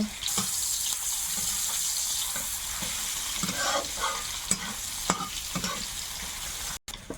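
Panch phoron spices, bay leaf, onion and garlic frying in hot oil, a steady close sizzle broken by occasional stirring scrapes and clinks.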